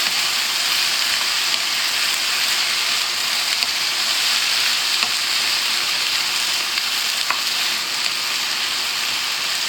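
Garlic and ginger sizzle steadily in a hot pan, a dense, even frying hiss that fills the whole stretch at close range with a few faint clicks of stirring and no voices.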